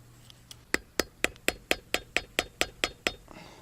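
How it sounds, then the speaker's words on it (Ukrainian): A hammer striking a metal bolt held against a fish-scaling tool: about twelve sharp, evenly spaced metallic taps in quick succession, each ringing briefly, close and clear with nothing else over them. "А цим болтом, щоб не погнути зубці, то я болтом добиваю."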